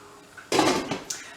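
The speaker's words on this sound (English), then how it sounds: "And then we're just going to pop the lid on." A lid is set onto a pot of potato curry, giving a brief clatter of metal with a quick second knock and a faint rattle as it settles, heard up close and without any talking.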